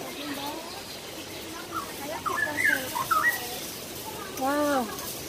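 Birds chirp and call in short, scattered bursts inside the Hong Kong Park aviary, moderately close, over a low background murmur, with people talking nearby.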